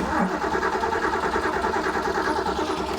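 A 347 stroker engine cranks with the ignition switched on, a steady rhythmic churning of the starter that runs close and loud for about three seconds without catching.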